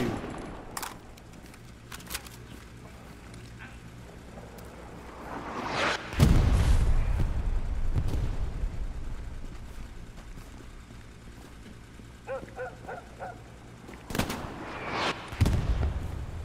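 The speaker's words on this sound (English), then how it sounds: "We got shots down the road." Gunfire in the World War II shooter Hell Let Loose: scattered sharp shots and cracks across the scene, a heavy booming blast with a long rumbling tail midway, a short rapid burst later, and further loud reports near the end.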